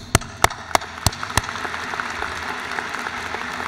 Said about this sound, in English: And I'd like to give you a big round of applause.